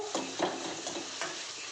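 Onions, tomatoes and chillies cooking in a frying pan for a prawn fry, with a gentle sizzle and a few soft scraping stirs, brief and quiet, with no voices.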